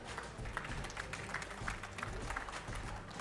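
Audience applause fills the room at a photography trade show, a steady dense patter of many hands clapping at moderate volume, with faint crowd noise mixed in.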